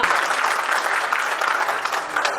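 Applause from the audience at a live comedy or poetry stage event, a sustained, even wash of many people clapping, moderately loud, tapering off just at the end.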